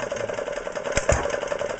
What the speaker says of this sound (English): It drops down to about 450 revs and then fires and brings it back up to about 600.